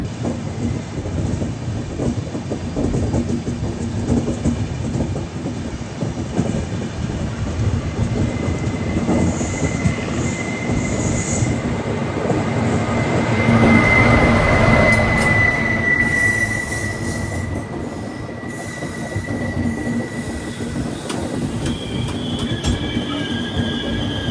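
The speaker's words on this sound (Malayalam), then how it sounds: "നിലമ്പൂർ എക്സ്പ്രസ് ആണ് ഈ പോകുന്നത്." Nilambur Express passenger train rolling past slowly on Indian railway track under maintenance work, steady loud rumble of wheels and carriages with high metallic wheel squeal throughout, peaking mid-pass, no talking.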